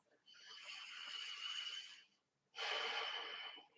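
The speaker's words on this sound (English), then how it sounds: "Deep, full breath." Two long, deep breaths during yoga, a drawn-out airy inhale then a pause and a strong exhale, close to the mic and alone with no talk.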